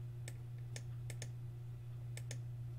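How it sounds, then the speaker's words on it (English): Computer mouse clicks sound during a Geoguessr game, about half a dozen sharp, faint clicks in small pairs over a steady low electrical hum. "Just keep clicking, just keep clicking, just keep clicking."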